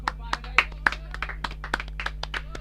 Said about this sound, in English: So let's have a round of applause for Chatfield at home.